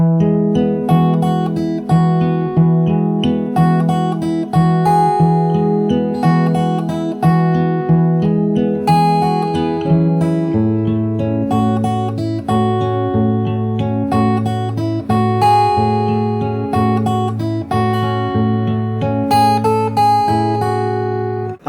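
A full verse of a song on fingerstyle acoustic guitar, played slowly: steady, even picking of a bass pattern with melody notes on top, sustained and close throughout.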